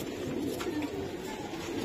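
Male pigeons, Bangladeshi Giribaz racing and flying birds, coo softly at close range, low throaty murmurs pulsing briefly over a quiet background with no talking.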